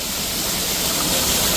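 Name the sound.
waterfall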